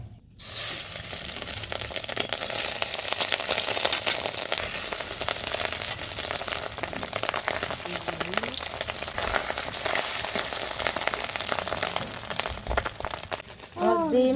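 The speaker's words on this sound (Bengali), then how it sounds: "এখন আমি ডিম কটা ভেজে নেব।" Eggs fry in hot oil in a kadai, a loud, steady crackling sizzle that fills the whole stretch, with faint voices behind it near the end.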